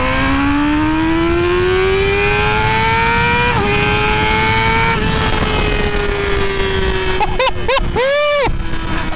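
A 2019 Yamaha R6 600cc sport bike engine revs high and climbs steadily in pitch, loud and continuous, with a shift break partway, then quick sharp blips of the throttle near the end.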